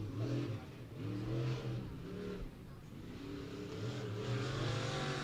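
Race car engines roar on a short oval track during qualifying for local classes at Beckley Motor Speedway, a loud continuous snarl rising and falling as the cars accelerate and circle past the microphone.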